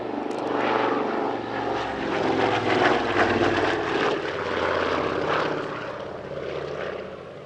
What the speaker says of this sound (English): The Anson has been operated by the Shuttleworth collection for several years now